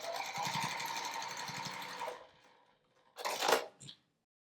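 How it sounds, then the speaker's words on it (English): Sewing machine stitching a quarter-inch seam on a quilted fabric panel, running in a steady close whirr for about two seconds, then a pause and a brief final burst. "sew a 1/4 inch seam across here"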